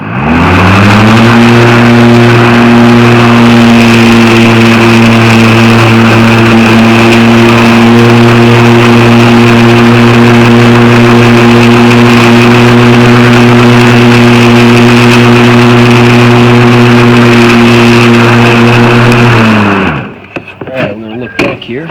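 A Ryobi 100 Ah battery-powered riding lawn mower runs with a loud, steady electric whine and hum for about twenty seconds, close by, then cuts off abruptly.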